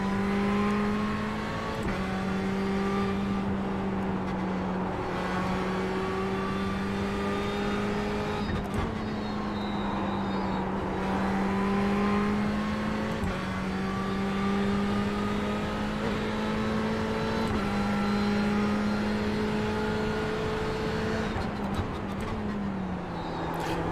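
A race car in the iRacing simulator runs a time trial lap, its engine droning steadily with rising and falling pitch through gear changes, close and continuous with no talking.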